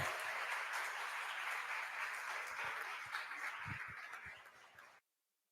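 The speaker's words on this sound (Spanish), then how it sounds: "Un aplauso para todos los invitados, por favor." Applause for guests at a university panel on speech and language therapy, with steady clapping from the crowd filling the room for about five seconds before it cuts off abruptly.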